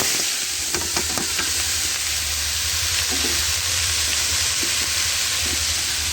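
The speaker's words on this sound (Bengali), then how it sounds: "শালগম ডাঁটা সহ শালবম এখন আমি ভাজি করবো" Turnip with its stalks frying in a pan with dried red chillies and black cumin: a loud, continuous close sizzle with scattered clicks of a spatula stirring throughout.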